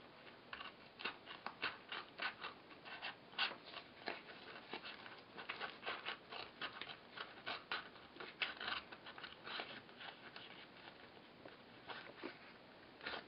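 Scissors snip repeatedly at close range while cutting material for custom shoe lasts, quiet crisp cuts in an uneven rhythm that runs throughout.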